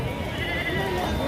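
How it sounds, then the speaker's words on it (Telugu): Sheep and goats at the Gangadhara livestock market, a nearby bleat rising over crowd murmur and voices in a brief burst. "ఇది గంగాధర సంతలోని గొర్రెలు మేకలు అమ్మే స్థలం."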